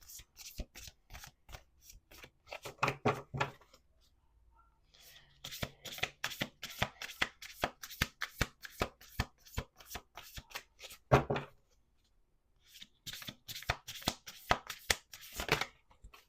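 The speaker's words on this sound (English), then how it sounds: "the cards feel like very disjointed. Like I shouldn't be shuffling." Tarot cards being shuffled, rapid crisp riffling bursts in several runs separated by short pauses, close and fairly quiet.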